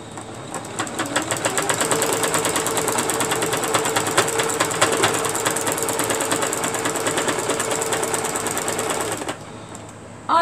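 A sewing machine stitches a quilt in one long run of rapid, even needle strokes that holds steady for about nine seconds and then stops abruptly. It is close and clear, and no one talks.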